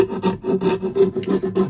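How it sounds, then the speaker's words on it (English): A rough rasp files wood while shaping the curves of an archtop guitar build, giving about seven rhythmic rasping strokes, close and fairly loud, with no talk. "I've got a rough round and flat rasp for getting"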